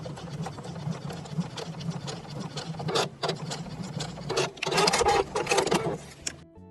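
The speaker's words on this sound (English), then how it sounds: "Just stitch that down 1/4 of an inch down from the top edge." A sewing machine stitches fabric a quarter inch from the top edge, a close, continuous mechanical chatter that speeds up and grows louder in bursts toward the end before stopping abruptly.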